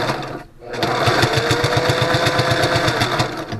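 A sewing machine stitches a folded-over fabric edge for bike pogies, a loud, steady rapid needle rhythm after a brief pause at the start, running alone.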